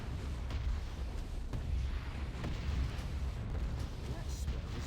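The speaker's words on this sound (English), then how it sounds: "I'll speed things up by dropping all 3 of my artillery strikes on them" Continuous rumbling barrage of artillery strikes exploding in World of Warcraft: Warlords of Draenor, Tanaan Jungle, dense overlapping booms at steady loudness throughout, with a voice speaking faintly underneath.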